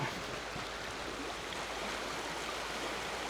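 The fast-flowing River Tweed rushes past as a loud, steady broadband roar of racing water, continuous and close with no pauses and no voices.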